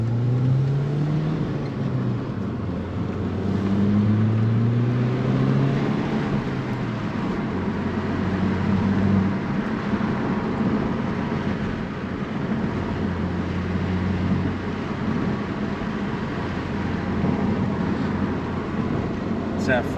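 Audi A4 with an S-Type cat-back exhaust heard from inside while driving: a low, steady engine drone rising and falling with gentle revving, fairly quiet under a person talking.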